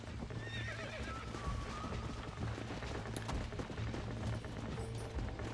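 A horse whinnies and its hooves clip-clop steadily in Red Dead Redemption 2 while the player tries to find his mount on the ranch, over a dense, continuous game soundscape of ambient noise.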